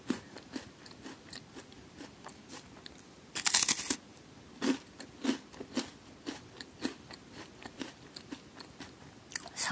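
A crunchy vanilla wafer, sold with Monster Strike cards, is bitten and chewed up close: a sharp crackling bite, then a run of quick crisp chewing crunches, with no talk.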